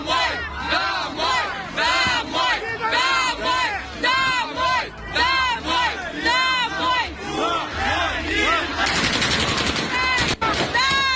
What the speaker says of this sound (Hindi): सुनिए जरा कैसे फायरिंग हुई है।